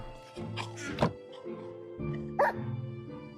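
Dogs in the Minecraft video game bark in short bursts, a few yipping, thunking barks spaced irregularly, close and clear over a quiet background.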